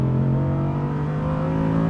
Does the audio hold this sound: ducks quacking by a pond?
no